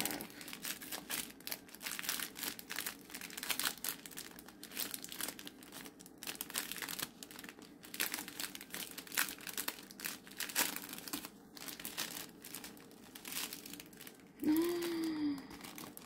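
A plastic bag of loose diamond painting drills being handled and opened, producing close, continuous crinkling and crackling with small rustles throughout, and a brief voice near the end.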